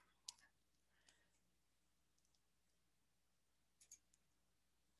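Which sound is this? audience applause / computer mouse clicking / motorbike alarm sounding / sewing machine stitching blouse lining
computer mouse clicking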